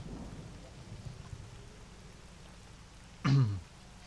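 Rain falling steadily in the S.T.A.L.K.E.R. Call of Pripyat video game, a soft continuous patter with a short, loud rumble of thunder near the end.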